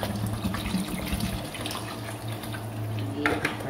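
Water pours steadily into a cooking pot of spicy chicken kofta and potato curry on the stove, a close, continuous splashing gush with a low hum underneath.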